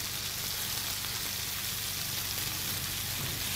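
Chicken wings for Thai-style wings fry in a pan with a strong, steady crackling sizzle, dense and close throughout.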